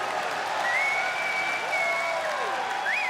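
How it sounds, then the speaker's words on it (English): An esports arena crowd at a CS:GO semifinal applauds steadily throughout, a dense wash of clapping with faint whistles and cheers over it, while a commentator talks on top. "The crowd appreciating this Cloud9 lineup that Jack has put together."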